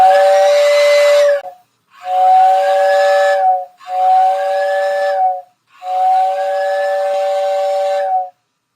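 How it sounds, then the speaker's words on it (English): Loud steam train whistle from a layout run with a legacy remote, sounding four separate sustained blasts with short gaps between them, close and clear with no talk. "Let's make it the whistle to go."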